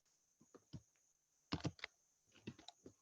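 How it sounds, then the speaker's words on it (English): Someone types a short message on a computer keyboard, with scattered sparse keystrokes, a tight cluster of louder taps in the middle and a final sharp key press, heard close in a quiet room with no voices. "I will quickly type it in the chat"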